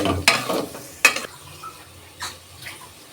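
Beef being sautéed with spices in a pot for haleem: scattered scraping stirs and a couple of sharp clanks over a soft, faint sizzle.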